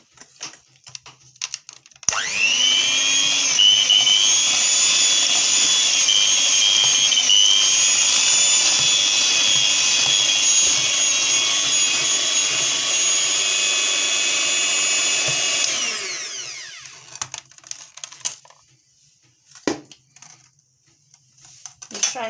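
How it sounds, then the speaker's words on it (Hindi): Electric hand mixer beating eggs into fruit cake batter, one egg at a time: a steady loud motor whine that starts abruptly, runs without a break for about thirteen seconds and then winds down, leaving faint kitchen clatter. "एक एक अंडा करके डालते जाएंगे, उसको बीट करते जाएंगे।"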